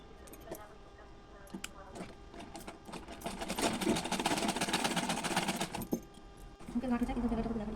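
A sewing machine stitches a size 32 Bombay-cut blouse, running in a fast, steady mechanical rattle for a few seconds after quieter handling sounds, while someone speaks over it.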